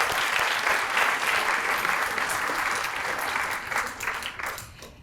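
Guests at an annual female athletes awards dinner applaud the caterers, a loud, dense round of clapping that stays steady and then thins out toward the end.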